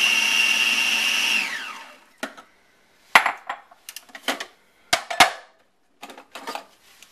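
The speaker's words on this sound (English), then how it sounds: "I added basil, garlic, and Parmesan cheese to a food processor." A food processor whirs steadily with basil, garlic, Parmesan, salt and pepper for pesto, then winds down and stops, followed by several sharp clacks and knocks of the lid and container being handled.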